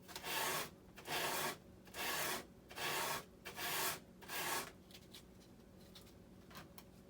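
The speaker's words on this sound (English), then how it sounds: "Sand a little bit on this." Sandpaper rubs a part for an LX Models Super B-25 model airplane in six even back-and-forth strokes, close and moderately loud, followed by quiet handling and a few faint taps.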